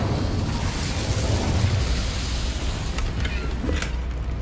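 A fiery Incendio spell blast in Hogwarts Legacy, a broad rushing roar of flame that holds steady for a few seconds with a faint crackle near the end.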